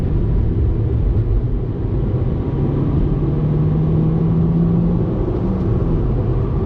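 A Nissan Sentra NISMO sedan with a 6-speed manual being driven, its engine a steady low droning rumble heard from inside with constant road noise and no talk.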